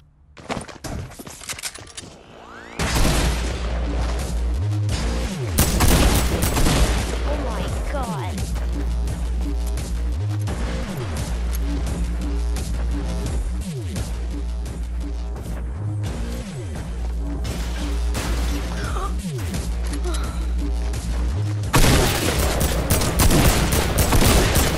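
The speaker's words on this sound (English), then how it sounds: "I just got the new boom box" Boom box item in the Fortnite video game, a loud repeating pounding beat with heavy bass thumps that runs continuously for about twenty seconds, with scattered gunfire-like bursts mixed in.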